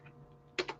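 Computer keyboard typing while writing Python turtle code, two quick close keystroke clicks near the end after a brief quiet hum, with no speech.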